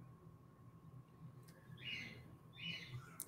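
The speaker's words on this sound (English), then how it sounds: "I can hear Cyrex's birds and cats." A pet bird in a room gives two short, bright calls, each a brief squawky burst standing out over a low steady background hum, with no talking.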